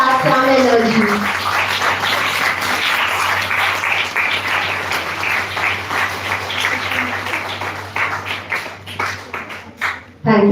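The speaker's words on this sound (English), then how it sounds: "A new round of applause, please." A lecture audience breaks into a sustained round of applause, a dense wash of many hands clapping that tapers off toward the end, with a voice speaking briefly at the start.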